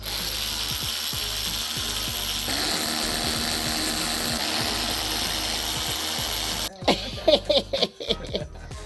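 A ratchet wrench clicks in quick repeated strokes while taking out bolts from the dry sump of a Lamborghini Gallardo. The sound is close and steady, then gives way to a few sharper metallic knocks near the end.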